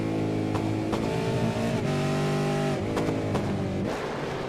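Supercars race cars drive on the Barber Motorsport circuit, their engines a loud, steady roar with repeated pitch drops as the drivers shift gears. There is no talk.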